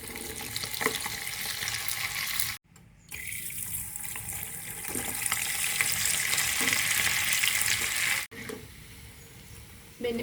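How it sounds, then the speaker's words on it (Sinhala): Rice that was washed and dried beforehand fries in coconut oil in a pan, giving a steady, loud hiss and crackle that breaks off twice briefly and then resumes, with no talking. "කලින් සෝදලා වේලලා අරගත්තු හාල් ටික මෙන්න මේ විදිහට තෙලට දාලා තෙලේ බැද ගන්න ඕන"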